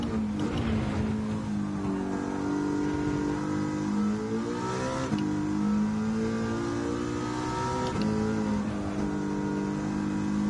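A racing car engine in the iRacing ShawFire Series revs hard and short-shifts. The pitch climbs, then drops sharply at each gear change, with quick upshifts repeating over a loud, continuous engine roar.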